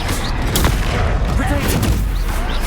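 Bombarda explosion spell in the Hogwarts Legacy video game, a loud, dense booming blast with crackling debris filling the short stretch without a break.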